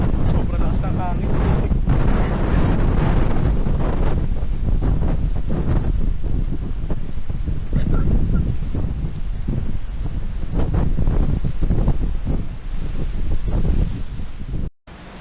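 Strong wind buffeting the microphone at a coastal viewdeck overlooking the Pacific in Dingalan, Aurora, a loud continuous rumbling roar with gusts and faint surf beneath, cutting off abruptly near the end.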